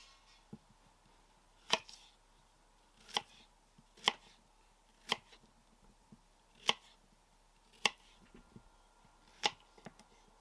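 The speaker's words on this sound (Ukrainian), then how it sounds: "нарізаю картоплю на шматочки" Sharp knife chops cutting potatoes into pieces on a cutting board, about nine distinct strikes at a steady, unhurried pace, close and clear against a quiet room.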